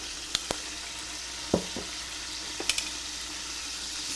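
Frank's red hot sauce sizzling in oil, a soft steady sizzle with a few sharp utensil taps and scrapes of stirring scattered through, no voices.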